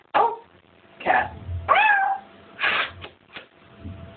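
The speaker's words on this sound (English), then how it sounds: "Cat." A cat meows several times in a row, each call a clear, fairly close, rising-and-falling cry, with short pauses between them and a few quieter trailing mews at the end.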